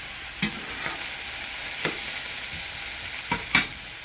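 Spaghetti stirred in a pan with milk added; a soft low simmer underneath a handful of sharp utensil knocks and scrapes spaced across the moment, no speech.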